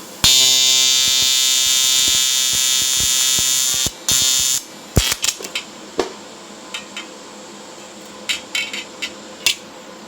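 Aluminum being welded with filler rod on a GMC motorhome build: a steady harsh buzzing arc for several seconds, a short break, another burst, then scattered sharp clicks and taps, loud and close.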